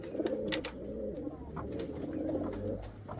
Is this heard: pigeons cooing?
yes